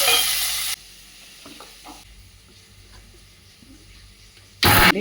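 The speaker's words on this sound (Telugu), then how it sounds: "ఈ విధంగా కొన్ని ఉల్లిపాయ ముక్కలు వేగించుకుని" Onion pieces frying in a pan for Andhra-style pond fish curry: a loud, dense sizzle at the start, quieter stirring with soft scrapes in between, then a sudden loud burst of sizzling again at the end.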